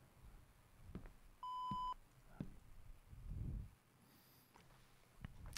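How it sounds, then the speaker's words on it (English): In the video game Jawbreaker, a metal detector gives a single short steady electronic beep, clear but fairly quiet, amid faint scattered thumps and game ambience. "We all heard the beep of someone going through the metal detector."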